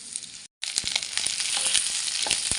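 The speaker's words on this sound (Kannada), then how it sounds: "ಗ್ಯಾಸನ್ನು ಸ್ಲೋ ಅಲ್ಲಿ ಇಟ್ಬಿಟ್ಟು ಸ್ವಲ್ಪ ರೋಸ್ಟ್ ಮಾಡ್ತಿದ್ದೀವ." Crab masala roasts in coconut oil in a pan over low gas, a steady close sizzle and crackle with scattered pops and the scrape of stirring, briefly cut off near the start, with no talking.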